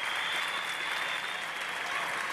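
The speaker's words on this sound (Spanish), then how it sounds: "Brindémosle a todos un muy fuerte aplauso, por favor." Loud, dense audience applause at a beauty pageant, a continuous wash of clapping from a large crowd throughout.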